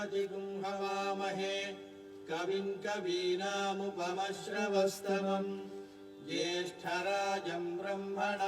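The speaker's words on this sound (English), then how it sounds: "So this is from a recording of Vedic chanting." Several voices chant Vedic verses together from a recording in a steady, droning recitation, phrases separated by short pauses, at moderate volume.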